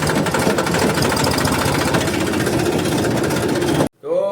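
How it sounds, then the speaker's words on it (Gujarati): A tractor engine runs close and loud with a dense, rapid mechanical chatter and steady drone that continues unbroken before cutting off abruptly near the end. "ટ્રેક્ટર લઈને ભાઈ અમે નીકળી ગયા છીએ અત્યારે"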